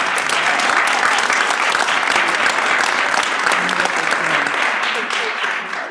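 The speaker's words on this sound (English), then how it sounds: "Please give her a round of applause." A meeting room audience at a university board of regents public session claps after a report, producing dense, sustained applause that stays loud and even for several seconds before starting to fade.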